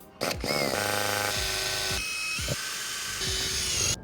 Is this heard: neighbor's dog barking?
no